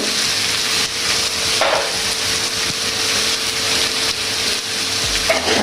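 Curry leaves crackling and sizzling in hot oil while cooking chicken sausage fried rice, a loud, continuous frying hiss with occasional pops and stirring clatter up close.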